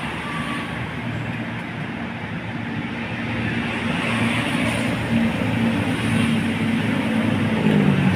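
Steady low engine rumble of an idling Hino RK R260 bus after warming up, continuous and close, with a faint rising whine toward the end and no talking.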